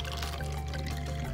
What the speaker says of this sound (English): let's pour some water inside these cups